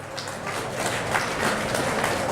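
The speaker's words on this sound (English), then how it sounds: "Can we have a big applause in there?" Audience applause at a talk: steady, dense clapping from a crowd, loud and continuous throughout.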